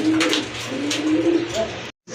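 Pigeons at a pigeon sale coo loudly and close by in overlapping low rolling calls, continuing steadily before cutting off briefly near the end.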